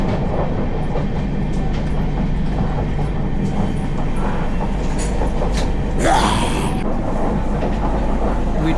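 Rumbling train noise heard from onboard a carriage, a steady loud low roar of wheels on track throughout, with a brief squeal or rattle around the middle.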